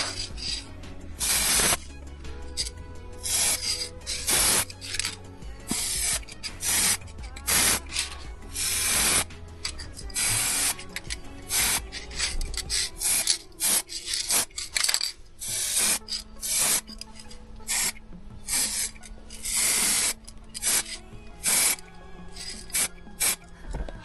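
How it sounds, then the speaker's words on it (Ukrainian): Repeated short bursts of spray paint hiss from an aerosol can onto brake calipers still on the car, close and loud, separated by brief pauses, with faint clinks in between. "пшикаємо потроху"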